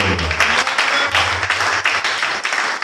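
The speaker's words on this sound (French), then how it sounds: "Est-ce qu'on peut acclamer cette parole?" A church congregation applauds together, a dense, steady wash of clapping that stays loud for about three seconds. A low hum runs faintly beneath it.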